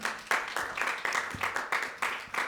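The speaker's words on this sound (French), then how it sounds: "Oui, on peut applaudir, bien sûr." A festival audience applauding at the mayor's invitation, with rhythmic, somewhat unison bursts of clapping pulsing at a steady beat at moderate loudness.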